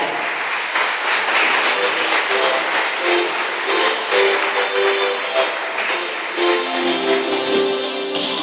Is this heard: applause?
yes